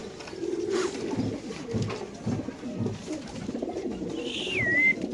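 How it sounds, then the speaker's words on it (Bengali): White racer pigeons, racing birds kept in a loft cage, coo in low rolling bursts close by, with a brief higher whistle near the end and no talk. "এখানে আছে আরেক জোড়া পাইট কবুতর হোয়াইট রেসার কবুতর"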